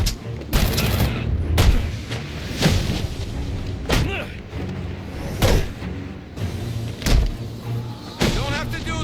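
Gunfire in the Batman: Arkham Origins video game: repeated sharp bursts and booming shots at uneven intervals, loud and close, mixed with game sound effects and some voices.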